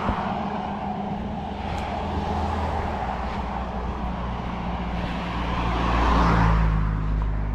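Cars passing by on a road during a roadside walk, a steady close roar of traffic that swells as a vehicle goes past near the end, with no talk.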